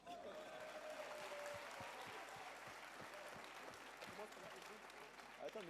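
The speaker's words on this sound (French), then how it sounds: "Tonnerre d'applaudissements." An audience at the 2025 Illumines gala show bursts into applause, a faint, steady wash of clapping with distinct rhythmic claps pulsing through it, while voices murmur underneath.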